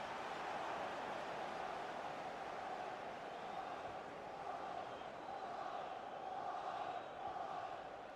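A stadium crowd in an eFootball video game match between Champions League and English league sides keeps up a steady, dense roar that holds at an even level throughout without sharp peaks.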